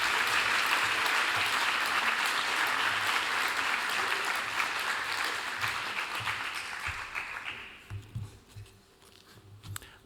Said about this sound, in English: let's have a round of applause for Umit Messi